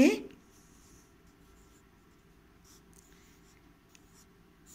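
Pen or pencil writing an answer by hand on paper gives faint, soft scratching strokes in short intermittent bursts after a brief loud start, quiet and close.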